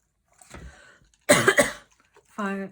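A few short, harsh coughs in a quick burst, close up, in a creative reuse craft supply store, followed after a pause by a brief voiced sound.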